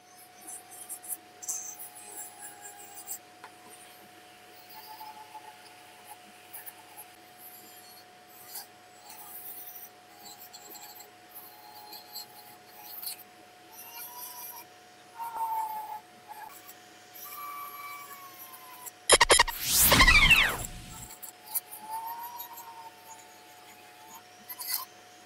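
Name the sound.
flap disc sander smoothing a wood carving of a feather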